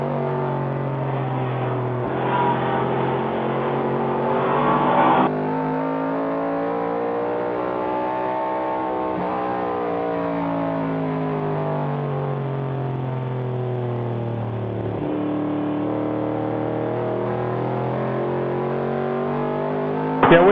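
A 1971 AMC Javelin and other vintage race cars roar past at speed on a road course, a loud steady engine drone with rising and falling pitch as cars accelerate and pass, continuous throughout without talk.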